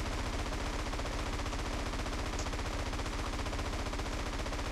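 Continuous rapid automatic gunfire rattles steadily throughout, a dense, evenly paced stream of shots in GTA San Andreas.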